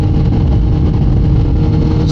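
A Kawasaki ZX14R motorcycle engine revs steadily in gear, a loud, continuous close-up drone holding a constant rev range with no pause.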